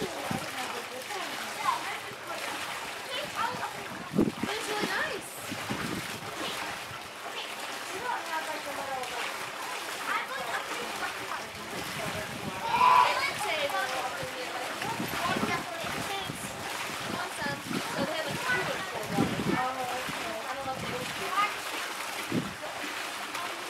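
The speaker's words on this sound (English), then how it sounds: "I am at the beach right now" Beach ambience with water splashing and washing in the background, under fairly constant nearby conversation between people.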